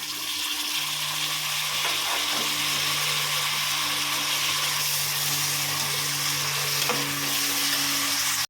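Tomatoes sauté with onions in a pan for seeraga samba mutton biryani, giving a continuous close sizzle and frying hiss with occasional stirring scrapes, steady throughout without any talking.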